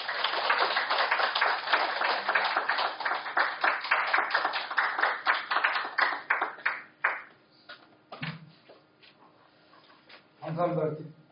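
At a book launch event in Incheon, a room full of guests claps warmly in a dense burst that thins out and dies away after several seconds, then a voice begins speaking.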